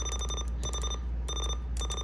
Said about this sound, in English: I don't like that beep